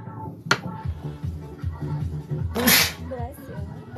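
A single sharp sneeze bursts out partway through, loud and close, with people talking quietly before and after it during a gel nail polish session.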